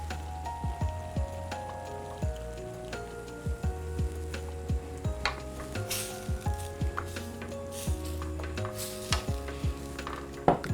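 Heavy cream stirred into a simmering mushroom mixture in a pan, with repeated utensil scrapes and clinks over a soft steady bubbling, close and fairly quiet.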